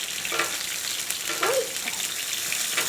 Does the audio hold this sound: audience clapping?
no